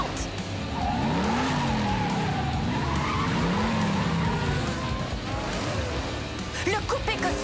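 Cartoon Hot Wheels race cars skid and screech through a race, with rising and falling tire squeals over a continuous engine roar, loud and close, and a brief voice near the end.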